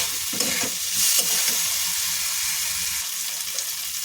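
Potatoes and paneer stir-fried in a kadai, a steady sizzle with a few scraping stirs near the start that settle into a softer, continuous frying hiss.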